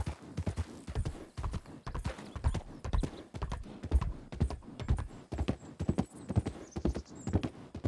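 Horse hooves clip-clop in a video game, a steady, brisk rhythm of close, crisp hoof strikes with a faint whinny mixed in.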